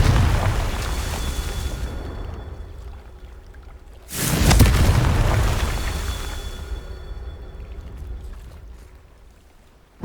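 A Confringo fire spell in Hogwarts Legacy bursts into a single heavy booming explosion midway, its roar slowly fading under a continuous low rumble of game ambience.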